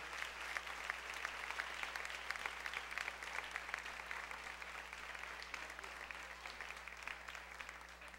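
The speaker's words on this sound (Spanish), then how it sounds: "¿Cuánto le pueden rendir un fuerte aplauso a ese Señor Todopoderoso?" Steady applause from a church congregation, many hands clapping in a fast, even patter at a moderate distance, with a low hum beneath and no one speaking.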